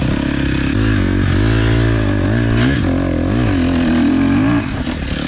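A KTM 250 XC-F four-stroke dirt bike engine revving on a ride, loud and close, its pitch rising and falling through repeated throttle blips with a rough, steady drone underneath.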